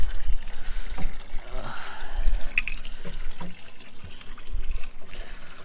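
Water trickles and splashes steadily from a water tank's tap into a container, close by, while a person speaks over it.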